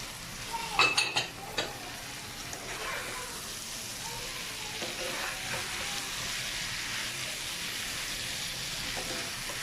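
Carrots and other vegetables stir-fried with chicken for a Malaysian-style dish give a soft, constant sizzle in the pan. A few sharp utensil clatters come early on, then gentler stirring continues under the steady frying hiss.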